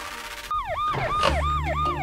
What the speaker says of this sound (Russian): Вроде бы скорая едет.